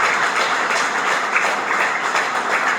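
An audience at a Gita seminar claps together in a dense, even wash of applause that holds steady for about three seconds.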